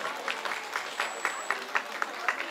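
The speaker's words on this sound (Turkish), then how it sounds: "bir alkış alabilir miyiz, bir alkış?" Scattered clapping from a small group at a Turkish wedding gathering, a handful of sharp claps at an irregular rhythm, fairly faint and close, with light background murmur.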